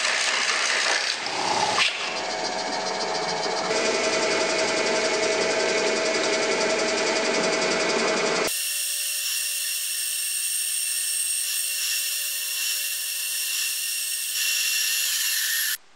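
A loud, continuous power-tool whine from a drill with a 50mm Forstner bit cutting holes into wood, its pitch shifting partway through before it abruptly stops.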